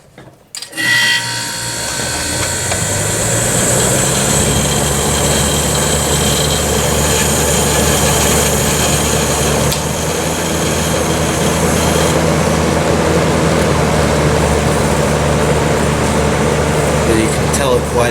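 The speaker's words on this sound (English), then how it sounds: "let's go ahead and start it up. This will be the first startup of the year. Let's start by the compressor so you can hear it." A Whirlpool AccuDry dehumidifier's compressor starts up with the fan on low speed, giving a loud, steady mechanical hum and whir that holds evenly after a brief start-up transient.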